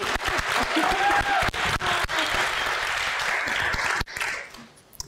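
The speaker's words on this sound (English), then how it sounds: "Applaud us. Applaud us." Audience applause fills a conference panel session, a dense steady clapping from a seated crowd that thins and fades out near the end, with faint voices mixed in.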